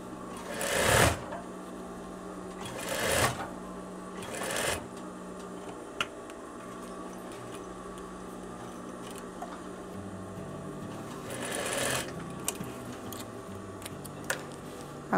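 A sewing machine runs in short bursts over a collar seam of a veterinary coverall, with quieter handling sounds and faint clicks between the runs, close and without talk.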